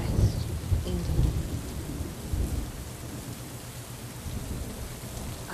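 Light thunder rumbles low and steady under continuous rain pattering on surfaces, a soft, even wash of rainfall with a deeper rolling swell near the start and no voices.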